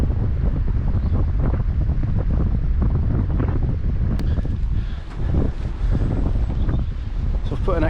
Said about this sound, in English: So the wind's coming this way.